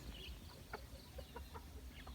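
Faint chicken clucks come in short, scattered bursts over a steady low rumble of outdoor background noise.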